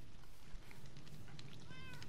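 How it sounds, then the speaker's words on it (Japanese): A cat meows in Minecraft, standing by inside a creeper trap, with a few short meows over a faint low background hum, no voices. "猫ちゃんが中で待機しているので"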